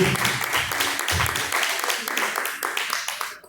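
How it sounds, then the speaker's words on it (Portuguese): A church congregation claps hands in praise during a live Portuguese-language service, rhythmic group clapping mixed with voices and tailing off at the end. "Bate as palmas para Jesus, glória a Deus."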